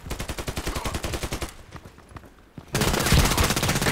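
A KelTec KSG pump shotgun in Contract Wars, heard amid a rapid, loud string of gunfire, a brief lull, then a dense roaring burst of shots and blasts close by.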